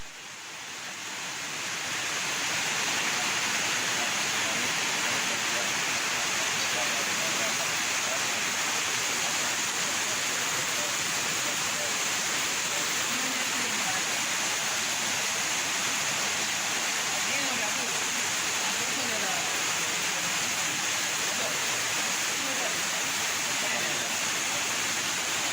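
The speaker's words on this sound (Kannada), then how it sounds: "ನದಿ ನೀರು ರಸ್ತೆಯಲ್ಲೇ ಹರಿಯಲು ಆರಂಭಿಸಿದೆ" River floodwater pouring across a road near a temple during heavy monsoon rain, a loud steady roar of rushing water that continues throughout, close and constant, with no voices.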